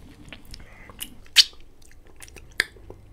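Biting and chewing a grape, watermelon and strawberry jelly lollipop candy, close and quiet, with two sharper crunchy bites among soft mouth sounds.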